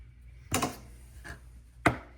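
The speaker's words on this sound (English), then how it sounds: "We're going to chop up our dill" Fresh garden dill being chopped with a knife on a board, three distinct close thuds at uneven intervals, the first and last firmer, with no talking.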